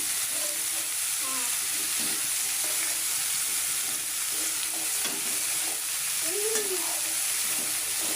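Cauliflower and silver carp fish sauté together in a pan: a steady, close frying sizzle with occasional stirring scrapes, and a brief faint voice in the background.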